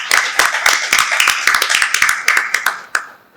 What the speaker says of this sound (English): So may I have a round of applause for him